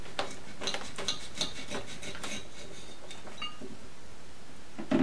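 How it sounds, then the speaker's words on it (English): A dull knife saws through a chili pepper, giving soft, close rubbing and scraping strokes with faint crisp ticks as the blade works through skin and flesh, fairly quiet and without talk. "Well, let's cut this guy open"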